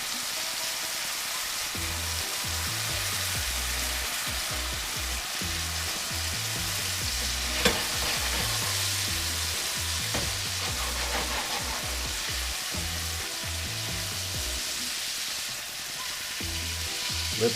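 Red Lechwe backstrap fries in butter in a pan, giving a steady, close sizzle with occasional sharper spits, accompanied by low background music.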